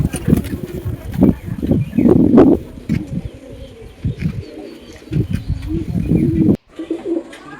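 Lotan pigeons with heavily feathered feet, some almond-coloured, cooing close by in a loft in repeated throaty bursts, with pauses between calls and occasional quiet talk in the background.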